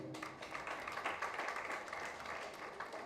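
An audience at a public relations and communications conference claps steadily, a dense, even patter of many hands with no voices over it.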